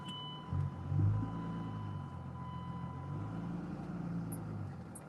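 A pickup truck with a Cummins diesel engine idles and rolls in reverse, its low engine rumble steady and moderately close, with a faint continuous high tone over it and a short clunk at the end.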